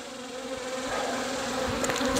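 Honey bees swarm and buzz steadily and loudly up close during a hive inspection, a dense continuous drone with no talking.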